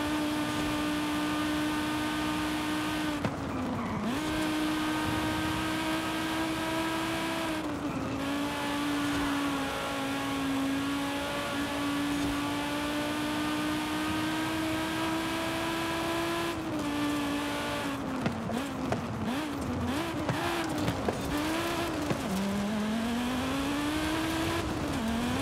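A car races through Forza Horizon 5 with a sustained, loud engine drone that climbs steadily in pitch, dipping briefly at gear shifts and revving unevenly near the end.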